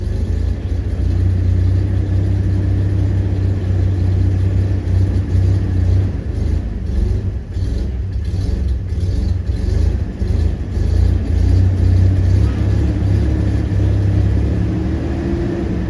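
A 2006 Toyota Corolla engine idles roughly with its EGR duty cycle raised, a steady low rumble with uneven, slightly lumpy pulsing, then a brief rev, running continuously and close up with no talk over it.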